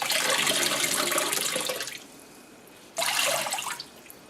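Wet wool material lifted out of a basin of water, water pouring and splashing off it in two loud close bursts with a quieter dripping lull between them.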